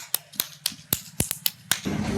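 About eight sharp, separate hand claps ring out one at a time at an uneven, unhurried pace, close and crisp. A soft wash of background noise takes over at the end.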